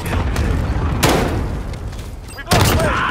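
Cluster strike explosions in the Modern Warfare video game, heavy booming blasts in a dense barrage, with two sharp louder bursts standing out, loud and continuous over a busy game soundtrack.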